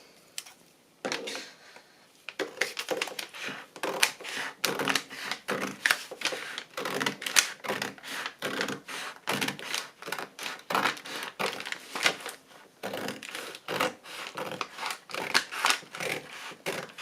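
Paper is being cut for a 1950s-style journal cover, with quick, dense, crisp snips and scrapes close by, coming in rhythmic runs with only short pauses between them.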